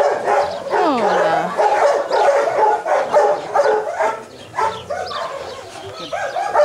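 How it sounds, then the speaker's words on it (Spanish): A dog barks and yips in quick, excited bursts close by, with whimpering, whining tones between the barks and faint bird sounds in the background. "Qué preciosidad de perro eres."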